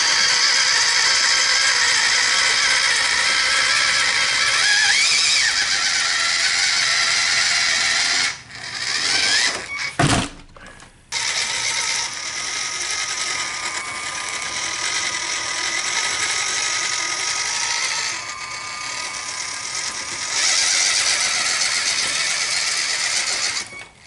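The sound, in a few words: WPL C14 RC truck climbing a 50-degree slope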